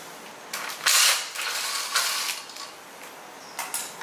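Ratchet wrench clicking as the motor axle nut comes off a Zero 10X electric scooter, close, in a few short bursts of pawl clicks with a louder spell near the start.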